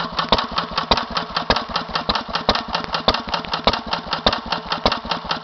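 A 1942 Lister B 5hp stationary engine on an oak trolley with cast iron wheels runs steadily nearby, its single cylinder thumping in an even, rapid rhythm with regular sharp exhaust beats.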